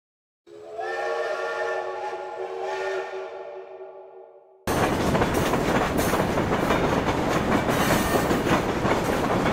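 A train in a video game starts with a long tonal whistle that slowly fades. It then gives way abruptly to a loud, dense, continuous rumble and clatter of wheels running on the rails, with no voices.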